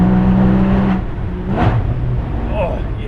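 A Porsche Boxster Spyder engine roars and revs loudly, with a rising surge partway through, echoing as if in an enclosed space on a mountain pass; no one speaks.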